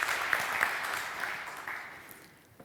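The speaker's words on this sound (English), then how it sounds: "please give a very youthful, happy, loud round of applause to Michal for his wonderful work" A crowd at a scientific presentation claps in a brief, moderately loud round of applause that gradually thins and fades.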